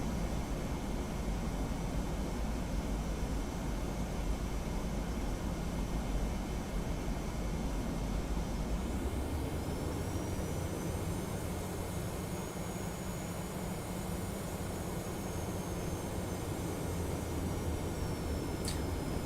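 Jet engine roar from a Boeing 717 airliner in the FSX flight simulator, a steady broadband rumble with a rising high whine partway through, continuous and fairly loud throughout.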